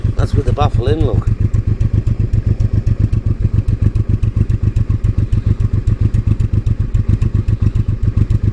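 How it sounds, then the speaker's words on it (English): A Honda Deauville motorcycle with a new MOTAD exhaust and baffle fitted idles close by, a loud, even, rhythmic thumping tick-over that persists throughout, with a man's brief speech near the start. "Tick over's nice. Just purrs."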